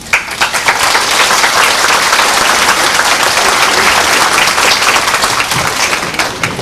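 Sustained audience applause fills a ceremony hall as a guest speaker is welcomed, a steady dense wash of clapping at full strength throughout, with no talking over it.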